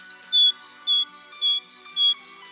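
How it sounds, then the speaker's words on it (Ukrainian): A great tit sings a clear, loud, close song of repeated two-note whistles, alternating high and slightly lower notes in an even, regular rhythm, with no other sounds. "Давайте послухаємо пісеньку синички."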